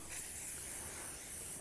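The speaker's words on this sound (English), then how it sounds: "I've got a piece of paper here and I'm just going to spray, quick shake" A spray can releases a light mist onto a piece of paper, a steady close hiss lasting a second or two, with no talk over it.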